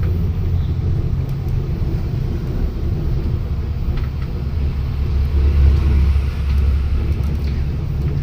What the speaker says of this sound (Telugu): లారీలు చాలా కష్టపడుతున్నాయి ఎక్కడానికి